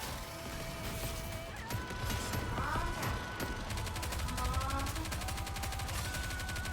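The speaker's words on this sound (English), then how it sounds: "I didn't realize there were turrets up here." Turrets fire in the video game Goddess of Victory: rapid bursts of gunfire and crashing impacts mixed with electronic game tones and mechanical whirs, loud and busy throughout, with no voices.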